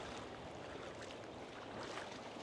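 A steady wash of sea water and surf at Boracay, broad and constant, with no voices over it.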